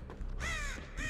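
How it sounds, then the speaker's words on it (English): Crows caw loudly in the game Dead by Daylight, a quick burst of harsh, rasping calls, close and overlapping, with a steady low rumble underneath. "Oh god, birds, birds, birds."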